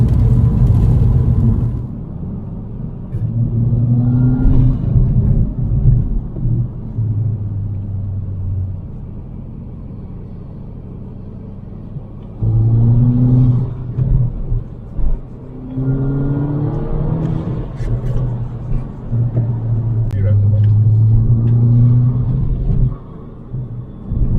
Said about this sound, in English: this constant engagement of downshifting and then putting the foot down with this turbo and the turbo flutter noise